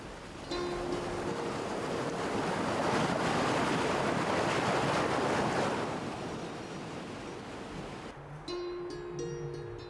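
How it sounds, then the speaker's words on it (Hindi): The Ganga river rushes along its course, a loud broad roar of flowing water that swells in the middle and then eases, with faint tonal music entering near the end. "अपने पथ पर निरंतर बहती जलधारा"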